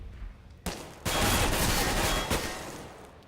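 Loud bursts of rapid gunfire in a CS:GO match, a short volley followed by a longer sustained rattle of shots and a final crack that fades into quiet.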